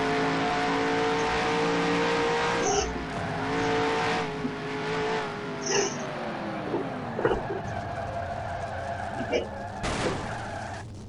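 A race car engine in the NASCAR Heat video game revs hard in fourth gear, its rising whine repeatedly climbing and dropping with shifts, punctuated by a few sharp knocks and a scraping burst, loud and continuous.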